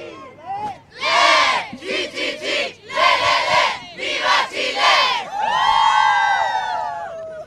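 A crowd in the square for Pope Benedict XVI's last Angelus bursts into repeated rhythmic chanting and cheering, loud waves of massed voices with short pauses between, ending in a long sustained roar.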